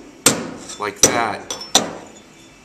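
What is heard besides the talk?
dent repair spoon slapping on sheet metal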